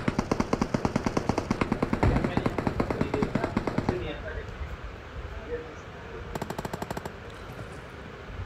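Rapid automatic gunfire in the video game BGMI, loud bursts of evenly spaced shots for about four seconds, then quieter scattered noise and a short second burst near the end.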